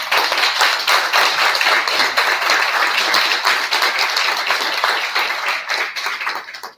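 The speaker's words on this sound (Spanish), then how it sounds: "le pido un aplauso para Ricardo" Applause for Ricardo at a book presentation event, steady dense clapping from an audience sustained throughout, loud and even before tapering slightly at the end.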